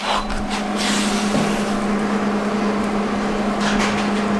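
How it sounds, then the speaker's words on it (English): Tack welding of a new steering piece onto a lifted 420cc off-road go-kart makes a loud continuous electric hum and crackle, steady and close throughout, with no talk. "weld our new piece on right there"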